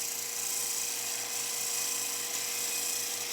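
A bowl gouge makes a pull cut on spinning wood on a wood lathe, giving a steady, high, hissing whine that holds for the whole stretch with no pauses.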